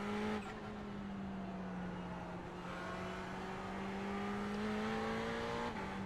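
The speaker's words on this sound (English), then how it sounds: "that Ferrari motor coming through the rear speakers on my surround sound here is pretty nice" A Ferrari 488 GT3 race car engine in the iRacing simulator at Tsukuba, droning steadily at high revs with a rising pitch, then a brief shift near the end, loud and close with no voices.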